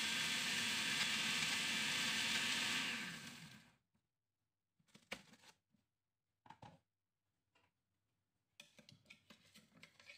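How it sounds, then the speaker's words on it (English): A blender crushes Oreo biscuits with a loud, dense whirring roar for about four seconds. The motor then cuts out, leaving quiet clatters and knocks of the jar and utensils. "First, put some Oreos in the blender"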